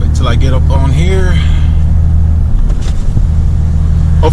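Deep, loud exhaust drone of a Cummins 6.7 diesel pickup while driving, a steady low rumble heard from the cab, with someone briefly talking over it at the start.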